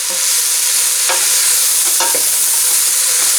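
Onions sizzle steadily in a hot pan as they are cooked for onion soup. The frying is close and continuous, with a few soft scrapes of stirring.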